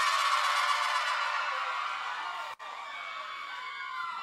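A crowd cheers and applauds for a contestant at a dance contest, a loud, steady wash of shouts and clapping that holds for several seconds, with a brief dropout partway through.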